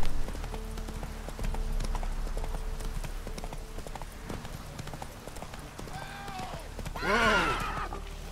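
Hooves clip-clop rhythmically as a horse gallops in The Witcher 3, steady and close, ending with a loud whinny, while someone talks at times over it.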